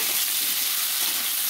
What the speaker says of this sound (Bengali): এই ব্রোকলিটা হালকা করে একটু লাল লাল করে ভেজে নেবো